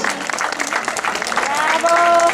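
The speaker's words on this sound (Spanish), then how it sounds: "Venga, vamos arriba esos aplausos." An audience claps for the women's race bronze medalist at a popular running race in Carballedo, dense applause with an announcer's voice over it.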